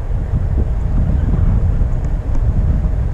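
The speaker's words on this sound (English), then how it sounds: "It's so windy." Strong, cold November wind in Canada roars and buffets a nearby microphone while riding a Onewheel Pint electric board, continuous low rumbling gusts, loud throughout with no voices.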